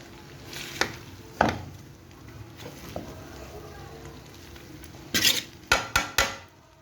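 Food stirred in a cooking pot with a spoon, close-up, giving a few scattered knocks and then a cluster of sharp clanks against the pot near the end over a faint background hiss.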